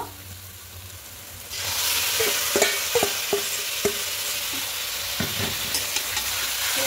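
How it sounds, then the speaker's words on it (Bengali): Marinated chicken drops into hot spice paste and bursts into a loud sizzle at once, followed by scattered knocks of a spoon stirring the pan. "এবার এখানে ম্যারিনেট করা চিকেনটা দিয়ে দেব।"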